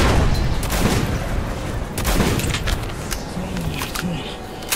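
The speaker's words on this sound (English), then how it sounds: "I figured out my grenade button." Gunfire and blasts crackle in a Metro 2033 Redux firefight, with several sharp bursts and a thudding explosion amid steady background noise, no clear talk.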